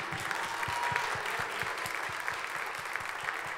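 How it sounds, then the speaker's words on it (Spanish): An audience applauds bassist Claudio Melo at a tango show: dense, steady clapping from a full crowd, even in level throughout, with occasional distinct hand claps. "Claudio Melo, fuerte el aplauso."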